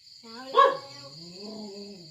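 A dog gives one sharp, near yelp that slides into a drawn-out, wavering howl, heard against a thin steady high tone.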